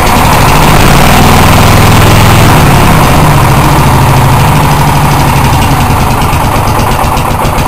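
An engine in a shop cranking and then running, a loud, heavy continuous rumble that fills the whole stretch with a steady uneven throb, very close and overpowering.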